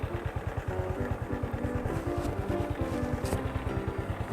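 A motorcycle engine runs steadily nearby with a fast, even putter, loud and continuous, with no talking.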